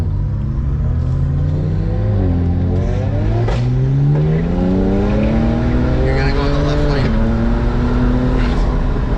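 Engine of a BMW 335is droning steadily while driving, with rising and falling harmonic tones as it accelerates and shifts, over constant road rumble; voices talk intermittently above it.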